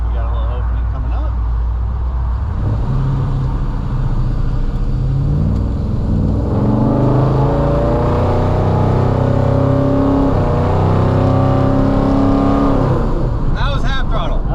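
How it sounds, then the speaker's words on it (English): A 1957 Chevrolet 210 Wagon pulls away at half throttle in lunch-hour traffic. After a low idle, the engine note rises in pitch and grows louder through smooth shifts, heard close up from inside the car. "That was half throttle."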